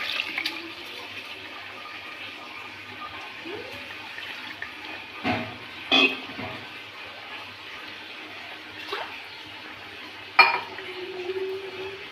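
Soaked rice with its water poured into a pot of cooked vegetables for veg biryani, giving a watery wash and a few sharp clinks against the pot, fairly soft and close, without talk.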